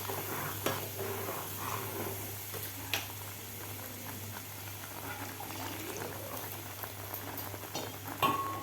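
Raw mango curry with ground paste simmers and bubbles softly in a pot while a spoon stirs it, giving a faint continuous burble with occasional scrapes and light taps.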